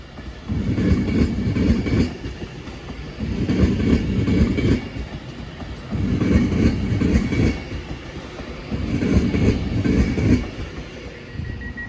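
An Avanti West Coast Class 390 electric train passes at Crewe station, its carriages rumbling and clattering over the rail joints in four regular surges of clickety-clack, close and loud.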